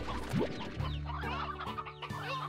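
Chickens in the video game Slime Rancher cluck in short, bright bursts, several calls close together and up close, with no one talking.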